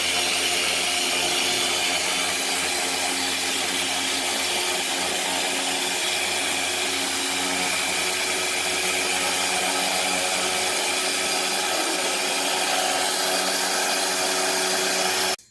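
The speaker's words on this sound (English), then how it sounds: "normally you want to have a hand mixer or a standard mixer with a stand, but mine broke, so we decided to try with the Ninja" A Ninja blender whipping keto cream runs loud and steady with a continuous high motor whine from start to finish, then cuts off abruptly at the end.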